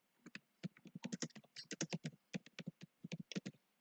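Rapid, uneven keystrokes on a computer keyboard, clattering in quick bursts with short pauses, close and fairly quiet, with no talking.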